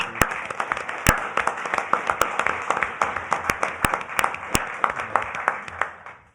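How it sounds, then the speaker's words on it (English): Applause from the audience at a county commission meeting honoring 4-H members, steady clapping with sharp individual claps standing out, sustained then fading at the end. "let's just give them a big round of applause for the 4-H."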